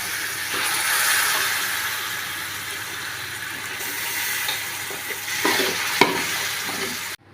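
Steady frying sizzle of pressure-cooked beef tripe being stirred and scraped in a pan, close by, including a few sharper clinks of a utensil against metal near the end.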